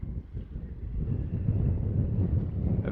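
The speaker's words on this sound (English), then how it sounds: "Yes, very windy." Strong seaside wind in St. Pierre buffets the microphone with a low, rumbling roar that builds and stays steady and loud.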